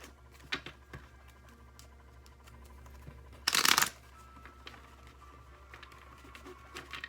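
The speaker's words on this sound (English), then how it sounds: "let us get some shuffle on and get some cards flipping." A deck of tarot cards is shuffled in one brief, crisp riffling burst midway, with a few soft taps and card handling sounds around it in a quiet room; no talk.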